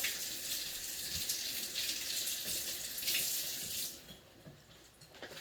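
Water runs steadily from a kitchen tap while something is rinsed under it, a close, continuous hiss and splash that thins out near the end as the flow is interrupted.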